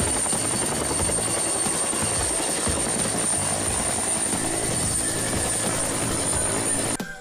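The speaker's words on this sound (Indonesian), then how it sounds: "Wih, ada helikopter." A toy helicopter gives off a loud, steady whirring rotor drone that runs without a break, then cuts off abruptly near the end.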